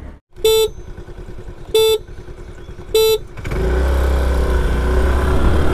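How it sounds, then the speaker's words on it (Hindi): Three loud horn honks in even succession from a scooter at the start of an Ola S1 electric versus Honda Activa 5G drag race, followed by a sustained roar of wind and engine as the scooters race off close by. "अभी मैं चला रहा हूँ ओला S1 और भाई चला रहे हैं एक्टिवा 5G"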